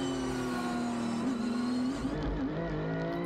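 A race car in the NASCAR Belcar series drives on track, its engine droning steadily and shifting pitch as it accelerates and passes, loud and continuous throughout.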